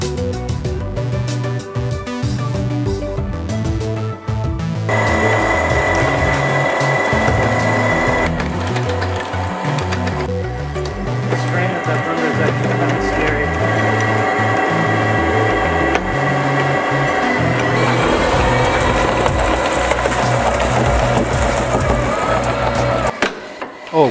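A homemade plastic shredder with a wider feed opening grinds up plastic pieces, a loud, continuous mechanical churning and crunching with rhythmic clatter and shifting motor load throughout.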